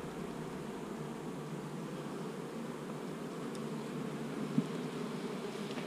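Honeybees crowd a two-frame nuc box, giving a steady, moderately quiet drone of many wings close by, constant throughout with a single brief tap near the end and no talking.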